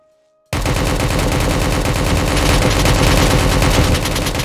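Loud, sustained bursts of rapid gunfire at a military airfield hangar in the video game Project Delta, erupting after a brief quiet moment and continuing densely throughout without talk.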